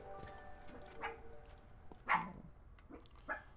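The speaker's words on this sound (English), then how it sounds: "And Fractal's barking outside again." A dog barks outdoors, a few sharp yips and barks spaced out over a few seconds, muffled and somewhat distant over a low steady background hum, with no one talking.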